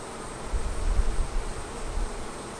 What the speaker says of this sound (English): Now these bees are piling on uh, in their their honey feast